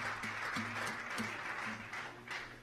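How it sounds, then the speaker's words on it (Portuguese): A festival audience at a night of fado music gives the musicians a round of applause. The clapping is fairly quiet and distant, and a sustained tonal musical hum runs underneath it. "uma grande salva de palmas aqui aos nossos músicos"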